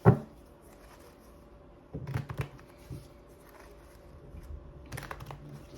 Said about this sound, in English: Get 3 clean shuffles.